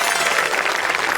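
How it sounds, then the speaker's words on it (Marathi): Audience applause filling a studio during a Marathi comedy stage show, a steady broad wash of clapping that holds evenly throughout the short stretch with no voices over it. "एकदा जोरदार टाळ्या झाल्या पाहिजेत."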